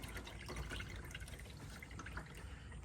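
Engine oil pours steadily from a 2025 Mazda CX-70 Turbo into a drain pan, making a soft, continuous trickling splash heard close up with no talking.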